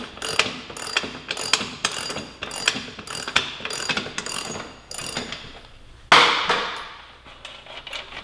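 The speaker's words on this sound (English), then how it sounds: "Got my ratchet, 36 mil axle socket." A ratchet fitted with a 36 mm axle socket turns the axle on a 2018 Suzuki GSX-R1000 sportbike: quick bursts of rapid, close clicking, then a sharp metallic clang with a ringing tail.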